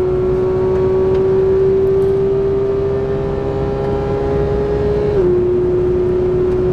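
A modified Porsche GT3 screams at high revs on a race track, a loud steady engine tone held near the redline with a brief dip as the gear changes, captured from inside the car.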